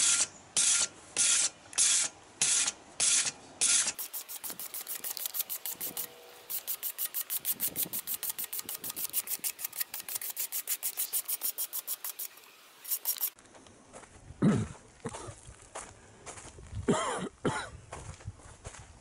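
Bondo body filler being sanded smooth on a welded sidecar built for a Triumph chopper: steady back-and-forth rasping strokes, close and fairly loud, in quick rhythmic bursts that pause and resume, with no talking.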